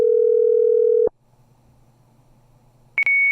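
A steady telephone tone on a line during a prank phone call cuts off abruptly, followed by a faint low hum and then a sharp higher-pitched beep tone, loud and alone.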